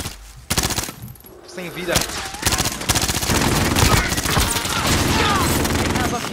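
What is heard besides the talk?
automated turret machine gun fire in Call of Duty: Modern Warfare video game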